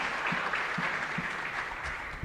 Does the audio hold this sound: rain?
no